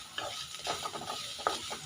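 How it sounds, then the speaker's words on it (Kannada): Fresh grated coconut is stirred into an oil tempering in a pan, making soft, faint scraping and light sizzling in a few short bursts. "ಚೆನ್ನಾಗಿ ಒಂದ್ಸಲ ಮಿಕ್ಸ್ ಮಾಡ್ಕೊಳ್ತಿದ್ದೀವಿ."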